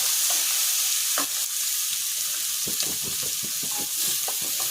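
Ginger and garlic fry in a kadai with a loud, steady hiss and crackle, overlaid by repeated scraping strokes of a spatula stirring the pan.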